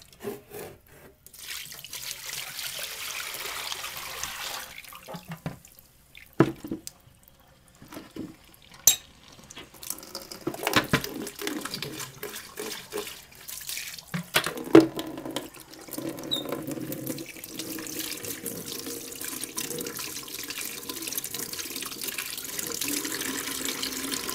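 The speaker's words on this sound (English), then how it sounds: "So we're going to dump this water and add some more water." Water from a tap runs into a sink while a wig is washed, with intermittent splashing, rubbing and clattering as things are handled, fairly close and moderately quiet.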